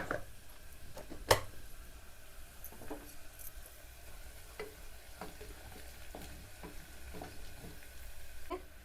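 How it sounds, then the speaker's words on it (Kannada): Mustard seeds and cumin crackle in hot oil, faint scattered pops and ticks over a soft steady sizzle, with one sharper snap early on. "ಎಣ್ಣೆ ಕಾದಿರ್ತೈತಲ್ಲ ರೀ ಚಟ್ ಚಟ್ ಅಂತವು ಸ್ವಲ್ಪ ಸಾಸಿವೆ ಜೀರಿಗೆ ಹಾಕೊಳ್ಳೋಣ"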